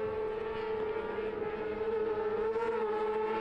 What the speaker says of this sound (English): Great to hear these high-revving 600cc machines, all Yamaha power